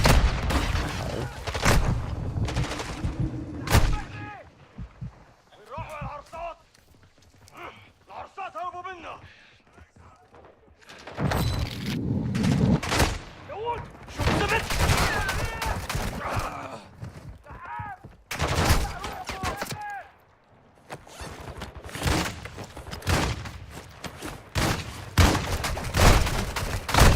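Gunfire in the Call of Duty DMZ video game crackles in repeated loud bursts and volleys, with sharp broadband shots clustering in several stretches between quieter gaps, while a voice talks at points.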